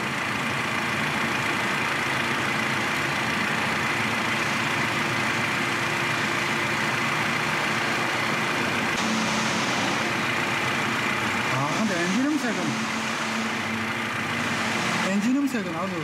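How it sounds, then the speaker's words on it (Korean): A BMW G30 530i engine idles steadily with a low, even hum, close and continuous, with brief shifts in tone near the end. "엔진 음색은 아주 실망이네."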